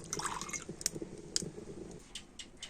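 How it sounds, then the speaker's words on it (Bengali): White cooking oil pours into a heated kadai, giving soft drips and liquid squishes in a few quick splashes, close and faint with no talking. "তো তারপর আমি সাদা তেলটা কড়ার মধ্যে দিয়ে দিলাম।"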